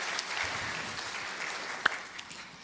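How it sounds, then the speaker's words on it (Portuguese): A church audience gives a round of applause for the helpers, steady moderate clapping throughout with one sharp louder clap standing out. "Salva de palmas mais uma vez para os nossos ajudantes aqui."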